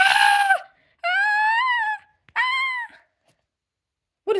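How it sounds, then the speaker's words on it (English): Screams in the Batman Defender of Gotham video game: three drawn-out, wailing cries with rising and falling pitch, loud and close, separated by brief silences. "It sounds like screams."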